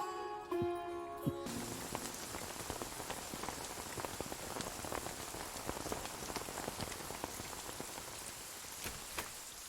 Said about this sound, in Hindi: अरे बाप रे, कितनी बारिश हो रही है, रुकने का नाम नहीं ले रही।